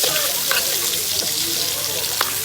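Sicilian sausage frying in a pan, a dense, loud continuous sizzle and crackle close up, with occasional small pops and no pause throughout.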